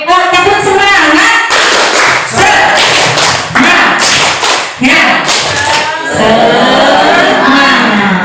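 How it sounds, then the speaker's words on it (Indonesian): An Indonesian teacher group in a presentation session does a rhythmic tepuk semangat spirit clap: loud patterned claps in unison mixed with chanting voices, continuing with brief pauses between rounds. "Diakhiri dengan tepuk semangat ya."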